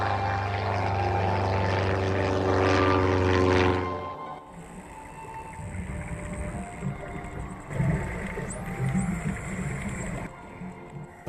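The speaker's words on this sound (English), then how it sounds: "the ski plane gains access to the snowfield above the Tasman" A ski plane's propeller engine drones loudly up close for a few seconds near the Tasman Glacier in New Zealand, then cuts to a quieter, steady hum of wind and engine noise.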